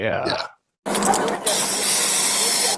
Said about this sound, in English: After the OC spray.